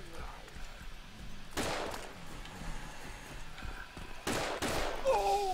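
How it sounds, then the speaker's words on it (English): Automatic gunfire in the survival shooter DayZ Breaking Point, a few bursts of shots at moderate distance with ambient noise between them and brief radio-like tones. "Who's inside shooting?"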